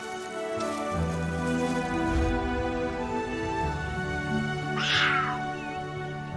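Young cheetah cubs let out a brief high, chirping call that rises clearly over a dense, continuous layer of background music.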